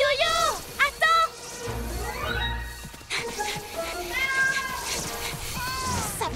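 A cartoon kitten stuck high up a tree gives repeated plaintive meows in a French animated series, its rising and falling cries heard over background music and voices.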